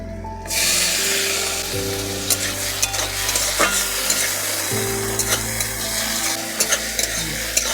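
Chopped onion and tomato fry in a pan with black cumin and a bay leaf, a steady close sizzle running throughout with scraping stir strokes and occasional metallic clinks of the spoon against the pan.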